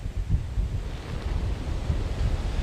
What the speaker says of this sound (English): some really ferocious wind hitting us right now, about a block inland from the coastline